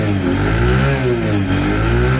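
Close by, a Bajaj Platina 102cc motorcycle in near-new condition revs, its engine note rising and falling in smooth waves over a steady low rumble, with nobody speaking.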